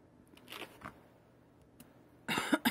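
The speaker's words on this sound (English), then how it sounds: "Sorry, I just coughed at you." A single sharp cough bursts out close and loud near the end, after quiet handling noises from working on a canvas framing project.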